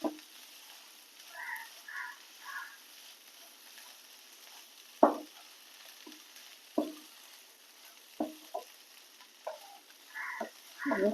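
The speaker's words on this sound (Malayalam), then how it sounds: "നന്നായി ഇളക്കി കൊടുക്കാം" Green gram stir-fry (cherupayar upperi) being stirred in a pan, with several sharp spoon scrapes and clacks spread across a faint, steady background and short soft bursts in between.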